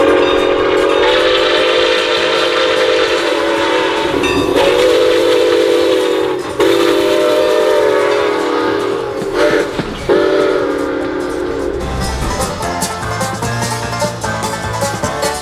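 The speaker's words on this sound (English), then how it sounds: "well, there's a steam locomotive" Milwaukee Road 261, a 4-8-4 Northern type steam locomotive hauling an excursion train, blows its whistle in long loud sustained blasts close by, with short breaks between them, then rumbles and clanks past toward the end.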